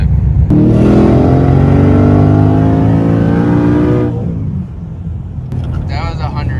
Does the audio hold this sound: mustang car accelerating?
yes